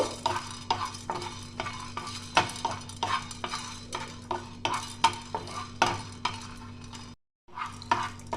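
Whole cloves, cinnamon, cardamom and peppercorns fry in a wok (kadai) while a spoon stirs them in steady, rhythmic strokes, each scrape sharp over a low sizzle, close and clear with a brief pause near the end.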